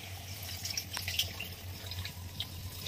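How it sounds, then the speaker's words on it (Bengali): Milk poured into prawn malaikari cooking in a pan makes a faint, steady liquid trickle with soft splashes and drips, low in level and close by. "এখন দুধ দিয়ে দেওয়া হচ্ছে"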